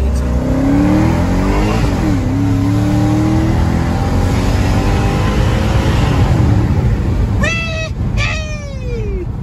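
A supercharged Dodge Charger SRT8 engine revs hard and loud, pitch climbing and dipping through several sustained pulls, with a high squealing whine near the end.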